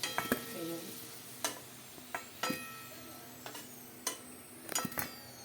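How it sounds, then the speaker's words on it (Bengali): Fried marinated potatoes for chicken biryani are lifted out of hot oil. Separate clinks and scrapes of a utensil against the pan sound close over a faint, steady sizzle. "এই যে সব আলুগুলো ভাজা হয়ে গেছে, তুলে নিচ্ছি আমরা।"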